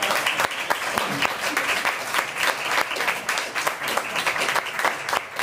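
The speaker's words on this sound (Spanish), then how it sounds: "así que por favor un aplauso para Clara Grima." An audience at a talk gives sustained applause, a dense, loud patter of many hands clapping that carries steadily throughout.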